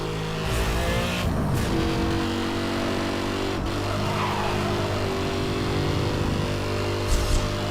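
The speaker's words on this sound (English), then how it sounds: "the sound of this engine is literally V12 thunder" A V12 supercar in the Need for Speed Hot Pursuit video game roars loudly and continuously, its engine revving through shifts with brief tire squeals and skids, no voices over it.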